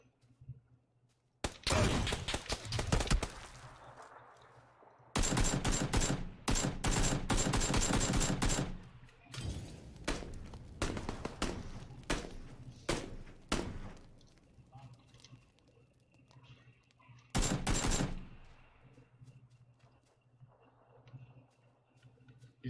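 Gunfire in the battle royale game PUBG: loud bursts of rapid automatic shots in several clusters, separated by quieter gaps with faint background game sounds; someone talks briefly.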